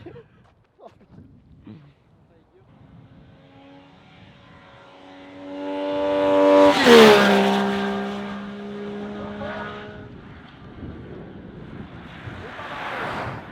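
A motorcycle rises from a distant hum to a loud, fast pass close by with a sharp pitch drop, then fades away, while people talk faintly outdoors.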